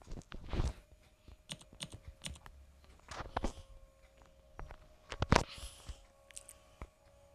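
Mouse buttons clicking in quick irregular clusters close by, sharp little taps bunched in bursts with short quiet gaps between, no speech.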